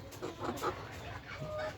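Several hens with a rooster on a backyard poultry farm cluck repeatedly in short, fairly close bursts over a low steady hum, with no one speaking.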